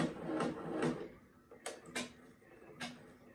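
An embroidery machine sews a tack-down stitch onto a baby blanket, giving off quiet, irregular bursts of mechanical whirring and ticking with short pauses between them.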